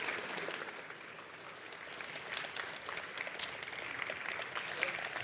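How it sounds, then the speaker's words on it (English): A crowd applauds steadily, dense clapping sustained throughout with no pauses, filling the space evenly. "I'd ask you to give a big, warm round of applause"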